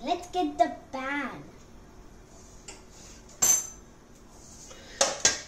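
A pan is pulled out of the kitchen cookware for jeera cookie baking, giving a few sharp metallic clinks and knocks, close by, after a voice talks at the start.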